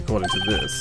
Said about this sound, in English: I heard a phone ring just now. One of those newfangled ringtones.